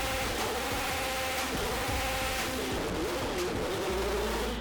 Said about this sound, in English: unusual flutter in the engine as it changes RPM